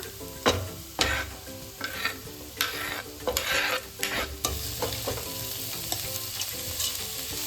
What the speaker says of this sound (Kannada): ಕ್ಯಾಪ್ಸಿಕಮ್ ಕ್ರಂಚಿ ಇರಬೇಕು ಅಂದರೆ ಸ್ವಲ್ಪ ಹೊತ್ತು ಮಾತ್ರ ಫ್ರೈ ಮಾಡ್ಕೊಳ್ಳಿ